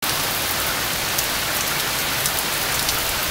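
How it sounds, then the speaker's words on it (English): Steady rain falls during Tropical Storm Ida, a dense, even hiss of drops on surfaces that stays loud and unbroken throughout with no voices. "I'm gonna head on inside because it is starting to rain"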